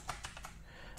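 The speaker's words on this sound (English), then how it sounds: "Doing our usual layout, typing the SQL in here." Quick, light keystrokes on a computer keyboard while SQL is being entered, a few distinct clicks clustered near the start, then a quieter stretch with one more tap at the end, close and fairly soft.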